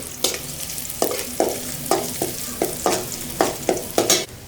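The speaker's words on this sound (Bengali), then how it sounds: "পেস্টটা ভেজে নিচ্ছি না পেঁয়াজ রসুন আর তেজপাতা" Onion, garlic and bay leaf paste frying for bhuna khichuri on a small stove at a stall, steady sizzle broken by regular scraping spatula strokes about every half second, loud and close with no voices.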